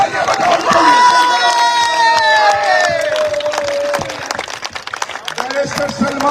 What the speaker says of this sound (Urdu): تالیاں بجاؤ